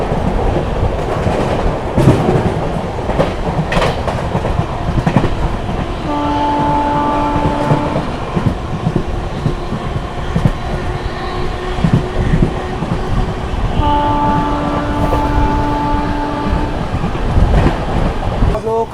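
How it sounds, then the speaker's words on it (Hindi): The Jharkhand Swarna Jayanti Express between Hatia and Anand Vihar roars past close by in a loud, steady rumble with wheel clatter. Brief horn-like tones sound twice partway through, and no speech is heard. "चलिए दोस्तों, सामने से आती हुई हटिया आनंद विहार झारखंड स्वर्ण जयंती एक्सप्रेस।"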